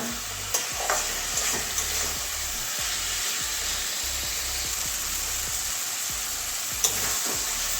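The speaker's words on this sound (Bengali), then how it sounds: "এই যে ভালো করে কষিয়ে নিয়েছি দু তিন মিনিট ধরে" Potato and pointed gourd sauté with spices in a pan for a yogurt-based curry, a steady sizzle broken by repeated scraping stirs of a spoon and a few sharper clinks against the pan, with no talk.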